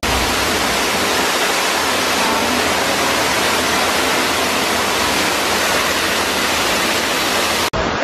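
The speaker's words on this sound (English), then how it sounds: "But you can see the waterfall out there" Steady, loud rushing of a waterfall in a cave at a mini golf course, a dense unbroken roar of falling water filling the space with no talk.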